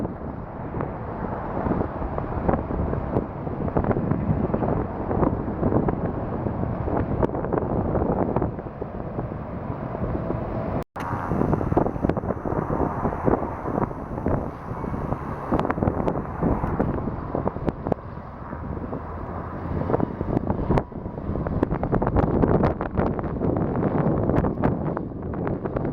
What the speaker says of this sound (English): It's about a 40-mile-an-hour wind. It's been blowing pretty much steadily that all day long.